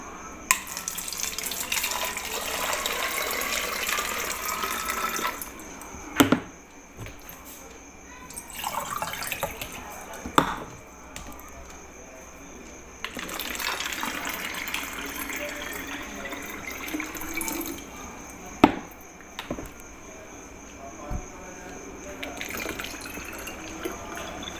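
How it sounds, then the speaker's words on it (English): Water runs and splashes steadily into a bottle during a liquid-pressure science experiment, with short pauses and a few sharp knocks and clinks between pours. "Then fill up the bottle."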